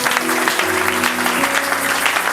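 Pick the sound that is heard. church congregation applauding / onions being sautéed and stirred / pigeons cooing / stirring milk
church congregation applauding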